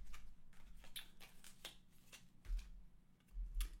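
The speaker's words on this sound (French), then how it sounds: "Alors on va tirer la petite carte." Oracle cards shuffled and drawn by hand, a few soft papery riffles and flicks close up in a quiet room.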